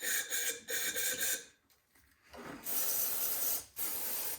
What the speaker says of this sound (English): I'm gonna spray some carb cleaner through the carburetor here.